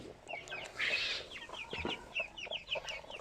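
Several chickens cluck and chatter close by, a busy overlapping run of short calls with one louder squawk early on.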